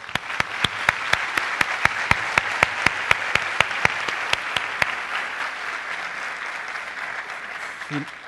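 A university conference audience in a hall claps for a panel, with a dense wash of applause and a few sharp louder claps standing out, ending with a brief voice at the close.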